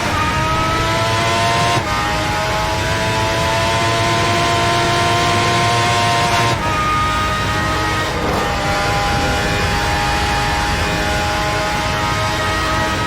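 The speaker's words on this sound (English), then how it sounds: "Use the power of that V12 engine" A V12 Formula 1 car engine screams continuously and loudly on the Nordschleife, pitch climbing through gears with brief drops at each shift, heard from onboard.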